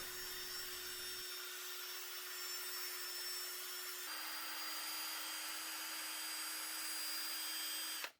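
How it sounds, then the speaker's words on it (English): Buffing of a wheel bolt on an Alfa Romeo OZ Monza three-piece wheel with a power polishing tool, a loud steady whine with a pitch shift partway through, continuous and close. "So the final polishing takes about 20 to 30 seconds"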